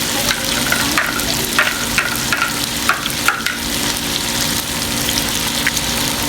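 Eggs frying in a hot pan with already-cooked potatoes for a Pakistani-style aloo anday breakfast, giving a steady loud sizzle with scattered crackles and pops throughout, no voices.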